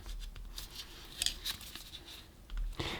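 Screwdriver prying at the casing of a Philips Sonicare DiamondClean HX9340 electric toothbrush, giving soft scraping and small plastic clicks and creaks close by, with a sharper snap near the middle and a scrape toward the end.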